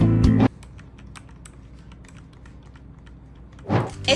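Keys clatter in quick, light strokes on a TERPOR TR95 mechanical gaming keyboard with Outemu red switches. Louder bursts of typing open and close a stretch of softer, scattered taps.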